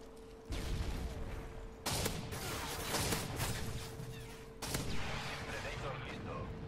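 Three loud, booming shotgun blasts from a SPAS-12 in the first-person shooter game Modern Warfare 3 go off at irregular intervals, each with a heavy crash and lingering rumble, over background game noise.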